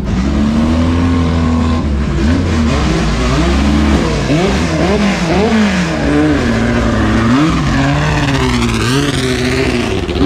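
A historic Formula racing car at Circuit Paul Ricard screams past close by, its engine note climbing and falling through gear changes. Loud and continuous, it then fades away.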